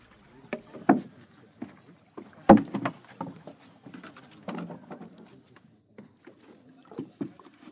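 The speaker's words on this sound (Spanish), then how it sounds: "el método de transporte en Chitwan es en canoa" A canoe is paddled on the water in Chitwan, Nepal, with intermittent wooden knocks and splashing strokes at irregular intervals, close and fairly clear against a quiet background.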